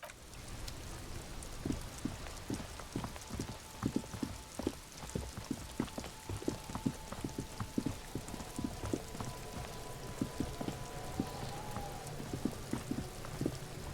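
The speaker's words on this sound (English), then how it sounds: "It's raining again." Rain falls steadily in the Disco Elysium video game, a constant wash of patter with many distinct drips and taps, and a faint sustained tone in the background.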